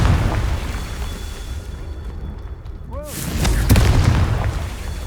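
A Confringo fire spell from the Hogwarts Legacy game bursts with a single loud, close boom, preceded by a short rising magical whoosh against steady game background noise.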